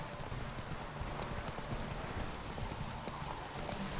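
Roach the horse gallops in The Witcher 3, rapid rhythmic hoofbeats pounding steadily through the whole stretch amid dense game ambience.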